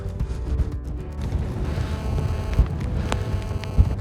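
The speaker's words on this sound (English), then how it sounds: "Streaming ice, absolutely horrendous this wind, awful." Strong wind gusting across open Dartmoor moorland between Okehampton and Postbridge, a steady close roar buffeting the microphone with a couple of sharper thumps, no voices.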